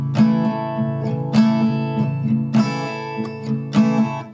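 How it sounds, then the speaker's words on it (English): Acoustic guitar strummed with the thumb, with louder downward first-finger accents on beats two and four, for a steady, bright rhythm of a song played alone without any voice. "use your first finger to play downwards, which will be a louder strum like this."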